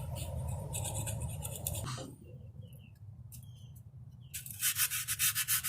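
Old gasket material is scraped off a Jeep 4.0 water pump, first in a dense, rasping stretch, then after a pause in a series of quick, sharp rhythmic strokes, close by.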